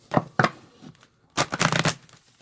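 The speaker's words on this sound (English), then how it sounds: "So just throw these in randomly and then give them a little shuffle in front of you." Oracle cards are shuffled by hand in a few short rustling bursts, close and soft, with brief gaps between riffles and no talk.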